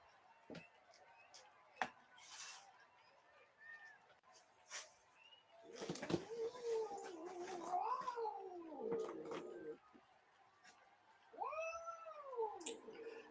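A cat meows several times, drawn-out, wavering cries, with a few sharp knocks and rustles between them at close range.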